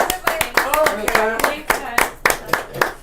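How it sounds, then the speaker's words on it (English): Audience at a live café show in Brooklyn clapping in a steady, loose rhythm, a dozen or so distinct sharp claps close by, with a voice talking over them. "Let me hear a little clap."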